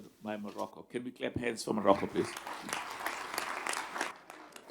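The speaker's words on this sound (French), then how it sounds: "Pouvons-nous applaudir le Maroc, s'il vous plaît?" An audience breaks into applause for Morocco at an event announcing the 2025 Africa Cup of Nations host. Someone speaks first, then a dense, steady wash of clapping fills the rest, moderately loud and sustained.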